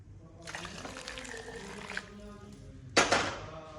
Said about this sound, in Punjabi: ਹੱਲੇ ਆਪਾਂ ਹੋਰ ਪਾਣੀ ਇਹਦੇ ਵਿੱਚ ਐਡ ਕਰਾਂ